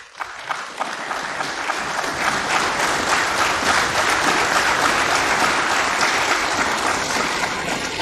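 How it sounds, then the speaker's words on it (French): Sustained applause fills a parliamentary chamber in Gabon after a vote adopting a constitutional revision, many hands clapping densely and loudly, swelling after a brief start and holding steady throughout. "ces applaudissements sont expressifs"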